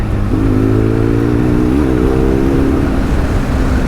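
Custom BMW 1200 GSA motorcycle engine while riding, a steady loud drone with a slight rise and fall in pitch, close and dominant with heavy wind rush, no voices.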